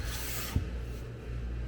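Sandpaper rubs across a solid wood cutting board in a steady rasp, close by, with a brief knock partway through before the scraping fades a little.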